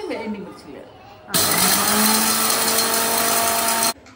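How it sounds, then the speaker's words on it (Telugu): An electric mixer grinder whirs loudly and steadily for a few seconds, grinding cumin, coriander seeds and black pepper in a home kitchen, starting abruptly and cutting off cleanly after faint voices. "ఓన్లీ జీలకర్ర, ధనియాలు, మిరియాలు ఇవి మాత్రమే వేసి ఒకసారి మిక్సీ పట్టేసింది"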